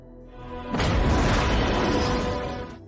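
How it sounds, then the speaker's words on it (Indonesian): A bomb explodes in a film scene: a low rumble swells into a sudden, loud, broad roaring blast that holds for about two seconds before easing off. "di saat itulah bom telah meledak"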